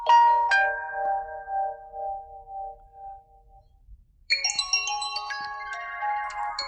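Default Samsung ringtone on an S series phone, a clean electronic chime of bright ringing tones that fades into a quiet gap, then a second, denser melodic phrase of layered bell-like notes, heard alone.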